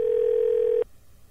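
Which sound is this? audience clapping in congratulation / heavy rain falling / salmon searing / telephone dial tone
telephone dial tone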